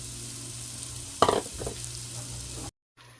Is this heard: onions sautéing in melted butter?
yes